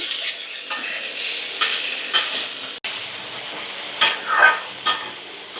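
Spinach and mixed vegetables stir-fried with garlic in a pan, with a soft sizzle and a series of distinct scraping strokes of a spatula against metal at irregular intervals, close and fairly loud with no talking.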